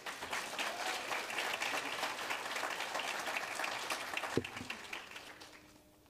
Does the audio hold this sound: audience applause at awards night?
yes